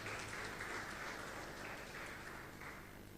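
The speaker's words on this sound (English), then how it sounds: "If we can clap for them, then it will be very good." An audience claps at an EdTech fellowship demo day, a steady wash of applause that holds for a few seconds and eases slightly toward the end.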